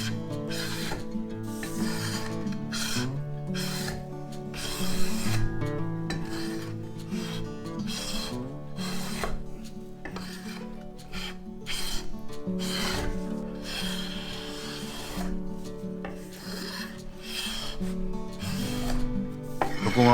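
A Japanese hand plane shaves keyaki (zelkova) wood for a tokonoma, making a series of close, rhythmic rasping strokes separated by short gaps.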